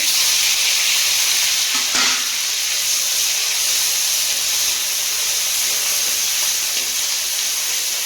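Ground onion paste fries in hot oil with a loud, steady, hissing sizzle close by, broken early on by a brief thud or clink before the continuous frying noise carries on alone.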